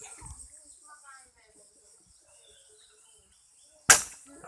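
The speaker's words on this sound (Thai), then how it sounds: "จะมาลองลองยิงเลยนะครับ" A handmade trigger-style shooter, about 65 cm long and finished in black, fires a single sharp snap near the end, loud and close after near silence, with brief voices just before.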